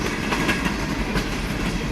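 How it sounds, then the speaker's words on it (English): A mixed freight train rolls past a depot at close range, its steady broadband rumble and clatter of wheels and cars filling the air with no pause. "It's like there's this mixed freight train"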